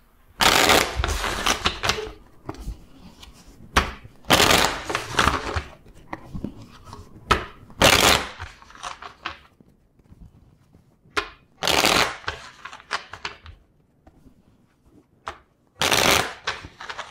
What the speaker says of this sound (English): So first let's shuffle the deck four times.